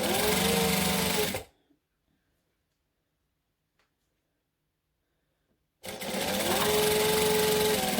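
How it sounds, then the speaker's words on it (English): A sewing machine runs in a close, steady whir while backstitching fabric, stops dead for a few seconds of silence, then starts up again at the same rapid, even pace. "I'm still going to backstitch because I can't help myself."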